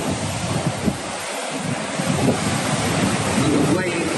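Ocean waves wash against the Dominican Republic coast in a steady roar, heavy wind buffeting the microphone throughout.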